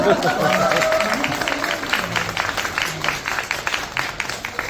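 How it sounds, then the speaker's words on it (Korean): Audience applause at a Korean book talk show, a steady patter of many hands clapping at moderate level with voices and laughter mixed in. "저는 이쯤에서 여러분이 박수를 한번주치요"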